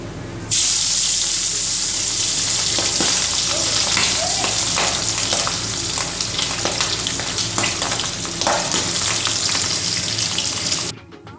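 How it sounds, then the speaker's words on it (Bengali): Pabda fish fry in hot oil in a wok with a continuous, close sizzle and scattered crackling pops that run almost the entire length without pause. "প্রথমে মাছগুলোকে আমি ভেজে নেব তেলটা আমার বেশ কিন্তু গরম হয়ে গেছে"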